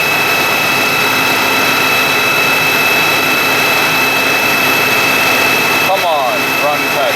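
Stage 2 tuned MK6 GTI engine roaring loud and steady at high revs on a dyno, a continuous dense whine with no break, briefly changing pitch near the end.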